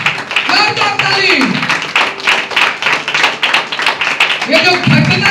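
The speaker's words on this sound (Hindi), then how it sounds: "जोरदार ताली परमेश्वर की महिमा के लिए, जोरदार ताली।" Congregation clapping loudly during a Christmas sermon in a Hindi-speaking church, a fast run of sharp hand claps mixed with voices and cheering throughout.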